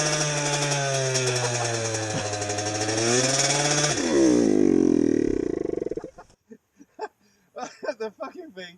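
Honda CBR DRZ 600 hybrid motorcycle engine revving hard up close, a loud rough roar climbing in pitch then cutting off, followed by a few short sputters and bursts.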